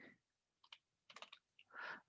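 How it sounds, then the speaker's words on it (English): Short bursts of typing on a computer keyboard, a few quick clusters of key clicks close to the microphone with brief pauses between them, in a quiet room. "Bad typing."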